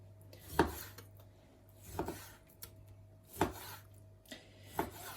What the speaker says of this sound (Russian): Нарезаю я довольно-таки вот маленькими кусочками.